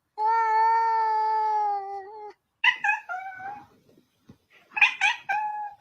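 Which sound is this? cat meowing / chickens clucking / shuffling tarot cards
cat meowing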